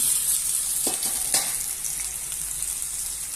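Food sautés in a hot pan with a continuous bright sizzle and a few soft scrapes from stirring partway through, all close and without talk.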